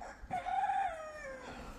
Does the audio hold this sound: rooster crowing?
yes